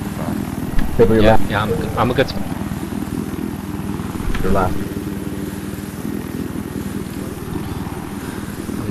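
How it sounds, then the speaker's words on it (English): A helicopter drones continuously through a Battlefield 4 match, a steady rotor and engine rumble in the background beneath players talking over team chat. "you got a chance to sting out the chopper"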